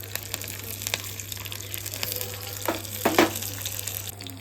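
Cut green chillies hiss and sizzle in hot oil in a pan for a Kerala beef gravy, a steady close frying crackle with a few louder pops near the end.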